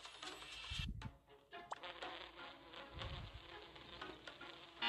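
Bees buzzing around a beehive in a dog rescue video game, a faint insect-like drone with brief soft taps and clicks over quiet background.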